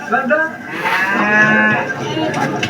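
Cattle at a small livestock market in Morocco give a long, loud, drawn-out moo close by, with faint market noise behind.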